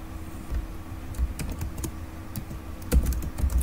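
Computer keyboard typing as HTML code is entered into Notepad, a steady patter of close key clicks with brief pauses and a few heavier keystrokes, no voices.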